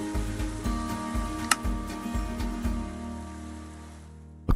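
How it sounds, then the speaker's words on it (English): Rain pattering in a blocky survival-building video game, a steady soft hiss under a low repeating musical pulse, with a sharp tick midway and another near the end. "so in the rain we go"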